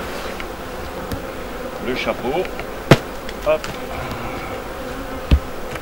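A dense, steady buzz of many honeybees around a hive fills the air during an acacia honey harvest in the Landes, broken by a few sharp taps on hive lids and a brief spoken word.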